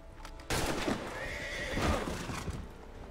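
A horse whinnies loudly with a long, wavering neigh in the video game Assassin's Creed III Remastered, over a busy background of rustling and hoofbeats.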